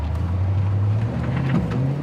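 A 1984 Pontiac Trans Am with T-tops runs through the gears, its engine a steady low drone with rising pitch and wind rush close by, with no voices.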